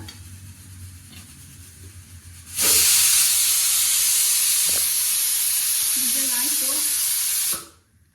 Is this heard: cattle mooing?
no